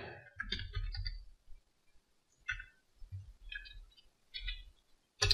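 Keys on a computer keyboard click in scattered quiet bursts while someone codes in C#, with short pauses between the taps.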